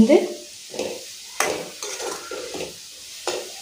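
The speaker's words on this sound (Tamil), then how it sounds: "புதினா பார்த்திங்கன்னா ரொம்ப நேரம் வதக்க வேணாம்" Mint leaves sauté in a hot pan, a spoon stirring them through a series of short scraping bursts over a light sizzle, close and fairly loud.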